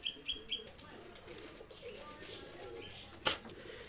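Two purebred pigeons are released and take off with soft bursts of wing flapping, with a sharper clatter of wings near the end, faint chirps early on and steady outdoor background noise.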